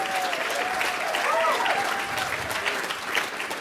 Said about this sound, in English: Can everybody give them a huge round of applause